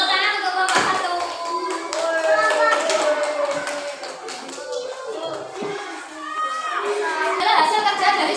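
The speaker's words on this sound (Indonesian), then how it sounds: "Beri tepuk tangan untuk kelompok 1" Children in a primary school maths class clap for a group of classmates, a loose patter of small hands running under lively children's voices throughout.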